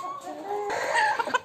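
Gramapriya laying hens on a terrace farm clucking close by, a few short overlapping calls with a brief squawk near the end.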